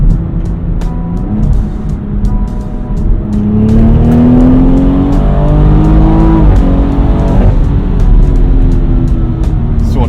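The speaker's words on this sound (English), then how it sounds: "it gives you a lot of shift noise relative to what you used to get while maintaining a degree of smoothness" Tuned BMW M240i xDrive (F22) with XHP Stage 3 transmission settings, engine loud and close as revs climb and drop through gear changes, with sharp crackling pops from the exhaust on the shifts.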